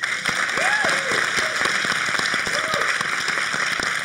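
Conference audience at an investor summit aboard a cruise ship giving scattered applause, with a few distinct claps over a busy room background, while a voice briefly speaks over it.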